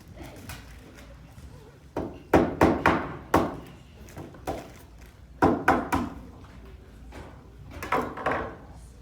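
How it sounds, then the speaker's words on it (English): A mallet strikes repeatedly at a kids' engineering expo, sharp wooden knocks in uneven clusters of two to four blows separated by short pauses, fairly close and moderately loud. "Need to get you a mallet."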